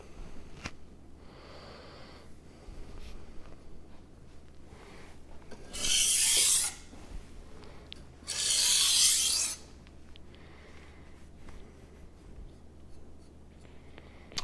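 A MagnaCut steel knife blade drawn across a sharpening stone in two long, rasping strokes a couple of seconds apart, close and distinct against a quiet room with faint small handling noises between.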